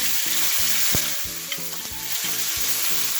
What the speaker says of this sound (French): je vais le faire saisir à la poêle